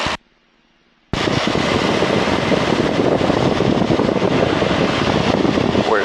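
A Piper Cherokee 180's engine roars at full power through the takeoff roll, loud and steady after a brief near-silent gap at the start, with no talk over it.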